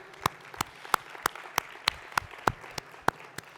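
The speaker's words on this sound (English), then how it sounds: "Give these mayors a round of applause, please." A small conference audience claps for a handful of mayors at a general session on cities, with about eleven sparse, distinct claps spaced evenly and fairly quiet in the room.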